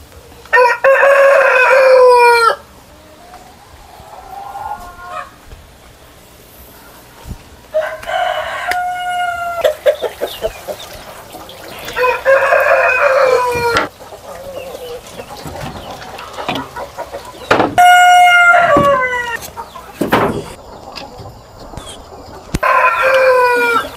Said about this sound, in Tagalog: kasi familiar og Brahma nga manok